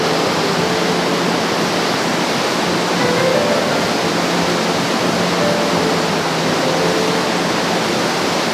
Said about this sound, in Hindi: सामने क्या बढ़िया वाटरफॉल है